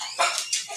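A dog barks in two or three quick, high yips close by, each one short and sharp, with no speech over them.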